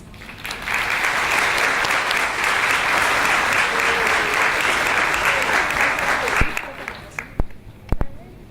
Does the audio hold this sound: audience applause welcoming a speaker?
yes